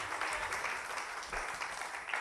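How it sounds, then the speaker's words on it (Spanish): A church congregation claps at a Spanish-language service, a soft, fairly distant burst of applause lasting about two seconds. "Denle un aplauso a Cristo que esta hora de la mañana."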